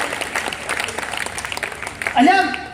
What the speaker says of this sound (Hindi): ताली बजा, आपकी तालियां कमजोर है।